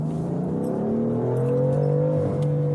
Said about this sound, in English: You simply plant your foot in almost any gear, and it goes very fast.